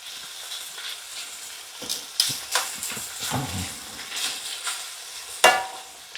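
Shrimp spread across a hot pan for a cheesy Alfredo pasta sizzles and hisses up close, with scraping stirs and bursts of spatter, heard alone without talk.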